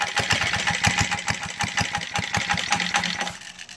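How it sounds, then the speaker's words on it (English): A small engine running wide open throttle on a gas vapor carburetor chugs along loud and close, with a rapid, even pulsing firing rhythm. "I'm gonna start it now"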